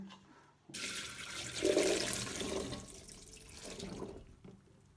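Cooking water is drained off cooked chickpeas, a loud rushing pour of liquid that starts abruptly, swells and gurgles, then eases into a softer trickle, close up with no talking.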